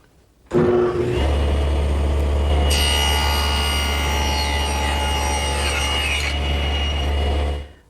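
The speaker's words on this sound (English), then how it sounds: "I've adjusted it side to side to make the cheek cut closest to the jig first" A table saw starts up and cuts a tenon cheek with the workpiece held in a tenoning jig. A loud steady motor whine runs throughout, with a higher cutting tone through the middle, then the saw spins down.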